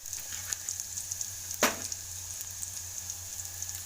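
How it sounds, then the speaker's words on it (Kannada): Onions with green chilli frying in a pan until golden, a soft continuous sizzle with faint crackles and one sharper pop, close and low in level. "ಸ್ವಲ್ಪ ಈರುಳ್ಳಿ ಹಾಕ್ಕೊಂಡು ಸ್ವಲ್ಪ ಹೊಂಬಣ್ಣ ಬರಲಿ."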